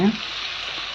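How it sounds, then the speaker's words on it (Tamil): Brinjal sautés in oil in a pan while cooking traditional South Indian mochai kuzhambu, giving a steady, close sizzle with a brief voice at the very start. "இந்த கத்திரிக்காய் வந்து நல்லா எண்ணெயிலேயே வதங்குது"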